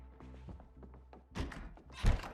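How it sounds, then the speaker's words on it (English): Zombies break in within the video game Project Zomboid, heard as a run of muffled thuds and knocks, soft and fairly quiet, ending in two heavier bangs. "That's the sound of them breaking in."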